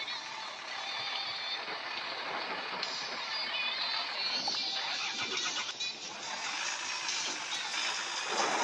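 Truck engine in a Bangladeshi truck simulator video game, a steady droning mechanical hum that runs without a break, fairly loud and even, with no talk.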